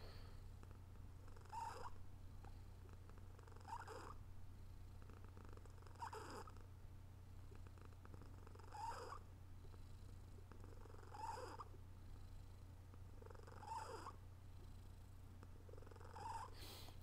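A pet cat purring close up, a low continuous rumble with soft rhythmic breathy swells roughly every two seconds, steady and unbroken throughout.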